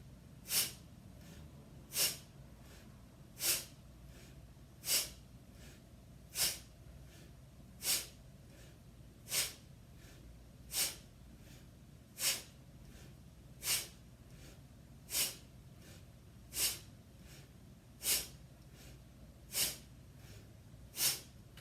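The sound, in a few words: slow deep breathing in and out, breathing exercise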